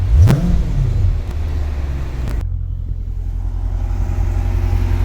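A 2020 Dodge Challenger R/T Scat Pack 6.4L engine idles in park with a deep, steady rumble after a brief, rev-limited rev near the start, sustained and close throughout.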